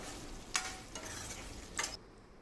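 Curry leaves being stirred into frying prawns for a tangy prawn curry, with soft scraping stirs at intervals over a quiet background sizzle and no talking.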